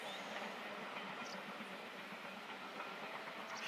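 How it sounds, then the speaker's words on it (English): Hogwarts Express steam train crossing the Glenfinnan Viaduct, heard as a steady, faint rushing rumble with soft rail clatter, distant and continuous throughout, no talking. "We're looking for the Harry Potter train."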